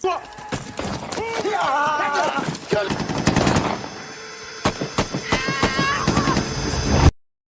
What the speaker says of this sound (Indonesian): lalu tembakan terjadi.